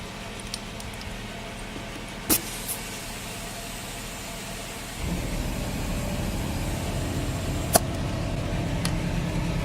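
The air compressor motor on a Jeep Wrangler kicks in partway through, filling its tank with a steady low whirring hum, preceded by quieter background noise and a few sharp clicks.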